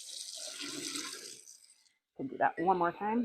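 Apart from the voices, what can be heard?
rinsing a fermenting vessel with hot water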